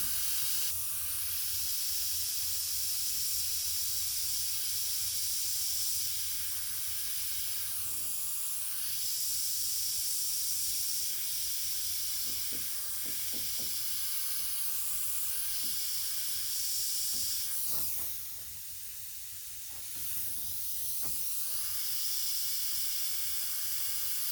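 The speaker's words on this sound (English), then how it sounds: "Working with the trigger mechanism on the airbrush" An airbrush spraying paint onto crocus petals, a steady soft hiss of air and paint that carries on at length, easing briefly and swelling again as the trigger is worked.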